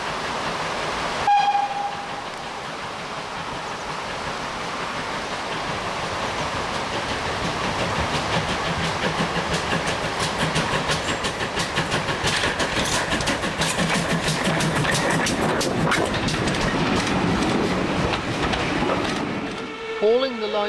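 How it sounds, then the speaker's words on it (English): GWR Pannier Tank steam locomotive No. 5786 runs on the South Devon Railway near Staverton. The rumble of wheels and engine grows steadily louder into a long, loud pass with dense clattering rail noise, then cuts off abruptly near the end. "GWR Pannier Tank No. 5786 returns from Totnes on the approach to Staverton"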